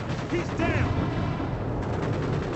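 Rapid gunfire in Call of Duty played on the Dolphin emulator, a dense, loud, steady rattle of shots with muffled rumbling, over a brief speaking voice.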